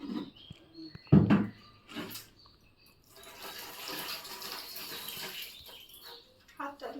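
Water runs and splashes at a household sink while fish are washed, a soft, faint, uneven trickle with a few louder splashes and clatters, sometimes dropping away.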